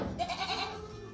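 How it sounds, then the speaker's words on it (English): Goats in a barn bleat, a few wavering calls close by over a low background rustle, with no talk. "That's all the goats out around munching the hay, pooping on the floor."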